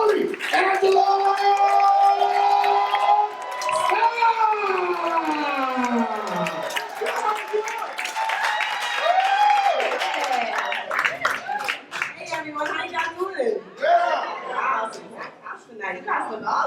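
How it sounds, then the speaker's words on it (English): Stand-up comedy showcase crowd claps and whoops for a comedian, with high rising cheers and a host's voice early on, then scattered claps and chatter toward the end. "Ladies and gentlemen, start clapping your hands right now."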